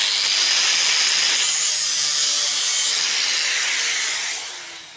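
Excess sheet metal is cut away on handmade car body panels for front fenders and louvred bonnets, a steady close rasping cutting noise that runs continuously and eases off near the end.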